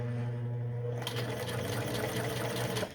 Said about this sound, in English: you might have to use the wheel over here to manually uh, get the needle through, because the sewing machine might not want to put it through